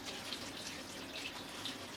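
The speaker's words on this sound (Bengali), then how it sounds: "আমার শাকটা বাছা হয়ে গেছে, এখন আমি একটু ধুয়ে নেব।" Tap water runs softly and steadily while leafy greens, khar kol leaves, are rinsed in a kitchen, a faint continuous wash with small splashes and no voices.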